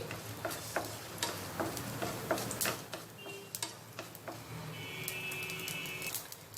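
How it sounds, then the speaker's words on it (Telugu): Urad dal, mustard seeds and chana dal fry in hot oil, giving off quiet, scattered popping crackles and light ticks over a soft sizzle. "ఇందులో మనము మినపప్పు ఆవాలు పచ్చిశనగపప్పు వేసేసుకొని కొద్దిసేపు వీటిని ఫ్రై చేసేసుకోవాలి"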